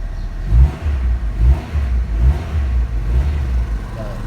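A 1997 Honda CR-V engine is revved in rhythmic bursts, about four low surges roughly a second apart, heard close and fairly loud with no voices.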